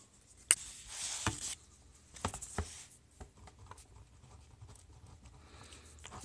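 A pen scratches on paper in short, irregular strokes, close and fairly quiet, with a few sharper taps between the scribbles.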